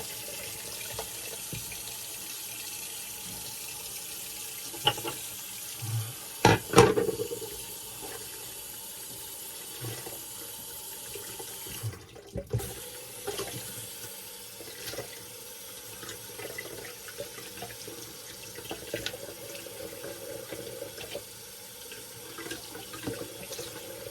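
Tap water runs steadily at a bathroom sink while rinsing off alum during a wet shave, cold water flowing in a continuous close hiss with a few louder splashes and clatters.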